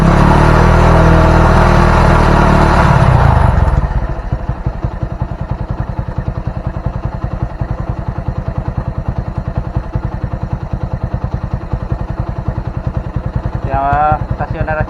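A Honda Mega Pro motorcycle with a faulty charging system is revved hard for a few seconds, then settles into a steady, rhythmic idle. A voice speaks briefly near the end.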